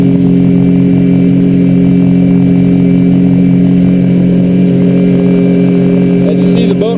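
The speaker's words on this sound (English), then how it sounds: "As you see, the boat runs nice and clean, low wake." A 2003 Alumaweld 15-foot Stryker aluminum boat runs steadily on the water at throttled-back speed, its outboard engine droning loud and close throughout with a constant low hum and a faint splash near the end.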